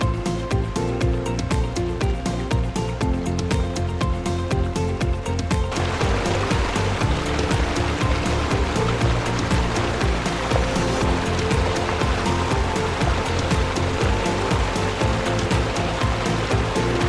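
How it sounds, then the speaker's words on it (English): Adams Canyon Falls in Utah, a roughly 40-foot waterfall heard from close range, a loud, continuous roar of falling water with steady broadband rush and no letup. "I got as close to the waterfall as possible for good shots."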